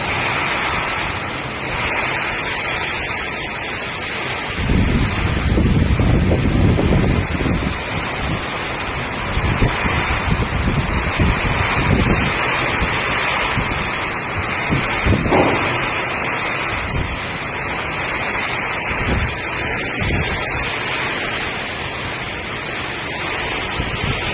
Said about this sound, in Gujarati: વરસાદની સાથે પવન પણ એટલો ફૂંકાય છે, જાણે વાવાઝોડું ન હોય એવો વરસાદ આવ્યો